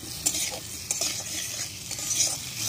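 Raw chopped tomatoes frying in a pan with spices for a Katla fish curry, stirred with a utensil: steady close sizzle with several distinct scraping strokes, no talking.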